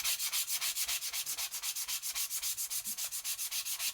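Sanding block rubbed over a painted wooden oval sign with filigree for a worn, vintage look: quick, even back-and-forth scrapes in a steady rhythm, close and clear, with no talking.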